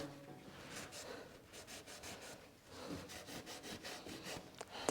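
A rag wipes down a mini metal lathe, giving faint, close, rhythmic rubbing strokes in repeated quick bursts with a brief pause midway.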